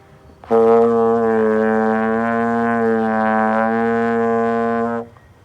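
A sustained trombone tone with shifting pitches slurred into one another without tonguing or clear breaks, sounding muddy, played steadily for several seconds, loud and close.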